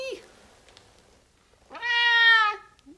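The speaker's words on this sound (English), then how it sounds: "Let's go find my stupid cat." A house cat gives one clear, drawn-out meow close by, preceded by a short earlier chirp, with quiet surroundings.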